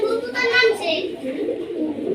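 Pigeons cooing in soft repeated calls close by, with a person talking over them throughout.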